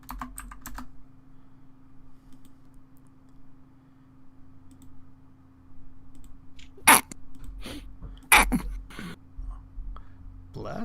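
A single sharp sneeze rings out close by, followed moments later by a second burst, amid steady computer keyboard typing and clicking, with brief low voices.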